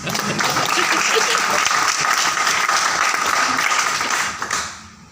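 Schoolchildren clapping together at an award and recognition seminar in Bathinda, a loud, dense burst of applause that holds steady for several seconds before fading out at the end.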